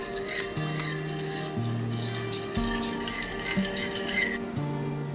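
A bowl of olive oil, lemon juice and garlic is stirred, giving soft scraping and light clinks of a utensil against the dish in short repeated strokes, close and quiet, with no voices.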